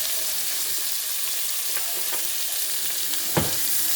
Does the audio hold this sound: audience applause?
no